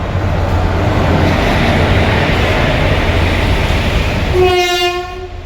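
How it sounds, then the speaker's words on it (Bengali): The Somnath Express, hauled by an electric locomotive, pulls out of a station with a loud, steady roar of wheels and carriages, then a long horn blast sounds near the end. "দেখতে পাচ্ছেন ট্রেন আসার মোটামুটি 3 মিনিটের মধ্যেই ছেড়ে দিল"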